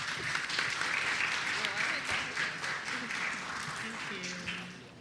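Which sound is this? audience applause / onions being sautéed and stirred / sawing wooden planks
audience applause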